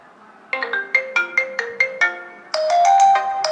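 Custom iPhone ringtone playing a bright electronic melody of evenly spaced plucked notes, then a sustained, louder synth phrase, heard alone and close with no talking.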